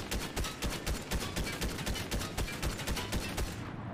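Rapid bursts of video game gunfire crackle in a quick, steady rhythm, sharp repeated shots layered into a continuous volley at moderate loudness.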